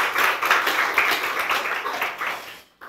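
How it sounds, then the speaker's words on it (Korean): A church congregation at a Korean worship service gives a burst of lively clapping, dense and close, fading over a few seconds before stopping abruptly into silence. "우리 다시 한번 박수로 격려했으면 좋겠습니다."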